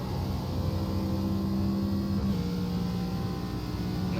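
An ARCA stock car engine in a racing video game at Watkins Glen holds a steady, loud drone with a rising pitch step partway through, continuous throughout with no talk.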